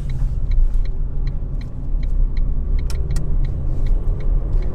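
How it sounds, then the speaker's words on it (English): A car is driven on the road and accelerated through its gears, giving a continuous low engine and road rumble with a few faint clicks over it. "Goes through the gears smooth, so we're checking all the gears."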